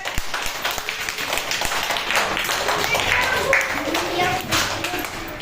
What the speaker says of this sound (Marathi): टाळ्या वाजवा एकदा जोरात.